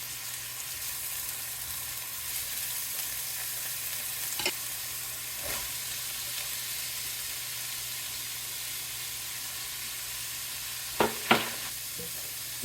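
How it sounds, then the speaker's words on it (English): Chopped vegetables sauté in fat in a pan with a soft, even sizzle. Occasional utensil taps break in, with a pair of clearer knocks near the end. "I'm going to saute these, let them start getting soft."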